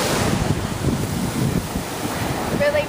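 Ocean waves wash onto Waikiki beach in Hawaii, a constant close rush of surf mixed with gusty wind buffeting the microphone, with no clear speech.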